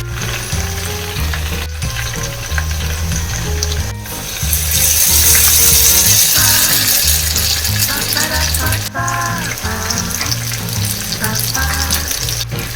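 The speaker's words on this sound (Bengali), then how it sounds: "আবার যখন এই ঝাপটা, তেলের ঝাপটা নিচে নেমে যাবে তখন আবার ব্যাটার দেবে" Ghewar batter frying in hot oil, a steady loud sizzle that surges as fresh batter is poured in and bubbles vigorously, with faint clinks and low background music throughout.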